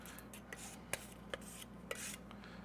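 Spackle stirred in its container for patching a wall hole: soft, faint scraping and rubbing with a few sharp taps of the tool against the sides, no voices.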